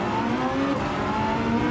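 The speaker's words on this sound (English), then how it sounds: "Oh, sounds dirty. It's a dirty engine." A raspy, dirty-sounding race car engine in Gran Turismo 7 revs loudly and continuously, a dense rough drone with shifting pitch for the whole short stretch, no talk.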